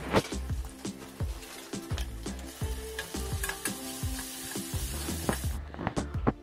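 Onion with ginger garlic paste and turmeric powder fries in oil for a Murgh ki Tahari, a close, steady sizzle broken by repeated scraping stirs and utensil knocks in an uneven rhythm.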